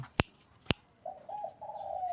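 Two sharp clicks, then a soft low cooing call of a dove, short and fairly close in a quiet setting.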